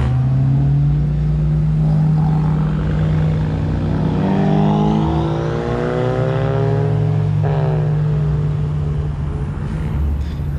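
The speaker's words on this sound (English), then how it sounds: "Let me stay quiet so you can listen to the cars." Engines of Honda Civic Type R (FK8) cars rumble and rev nearby at a car meet, a deep steady drone with rising and falling whines as one vehicle accelerates past, no talking.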